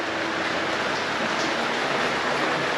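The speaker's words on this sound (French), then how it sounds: "mais il pleut à verse" Heavy downpour on a trek in Nepal's Manaslu region, a dense, steady hiss of rain with no breaks, moderately quiet and even, no talk heard.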